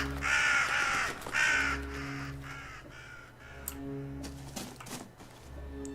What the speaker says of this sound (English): The fucking crows are attacking him.